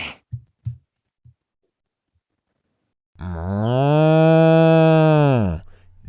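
A single long, loud cow moo rises and holds, then cuts off, serving as a production company's logo sound. A few brief faint clicks come before it, followed by a short silence.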